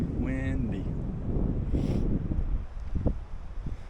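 Wind in an orchard buffets the microphone in a rough, steady rumble, with a faint squeaky tone at the start and some murmuring underneath.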